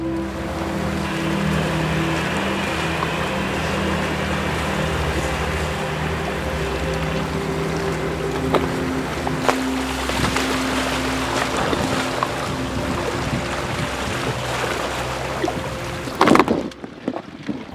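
A ship cruising through icy Antarctic waters produces a continuous low engine drone and wash of water and wind, steady throughout, with a brief clatter near the end.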